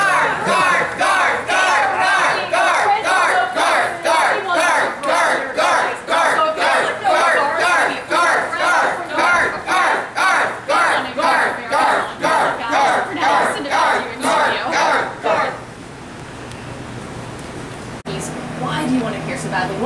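Crowd at an outdoor morning TV event in Wilder, Kentucky, chanting and cheering in loud rhythmic waves for about fifteen seconds, then dropping to a murmur of chatter.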